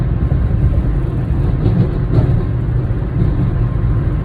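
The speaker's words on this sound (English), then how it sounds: "The vehicle has not stopped, and I am pleasantly surprised with how well the Infiniti is doing." Infiniti car cruising on the highway while towing a trailer: a steady, loud low engine and road rumble with a whirring drone that stays constant throughout, with no talking.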